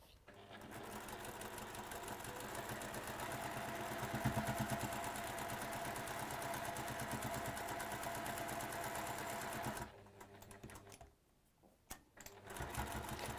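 A sewing machine runs fast and close, stitching the final seam of a quilt in a steady, rapid buzz for about ten seconds, then stops with a few quiet clicks.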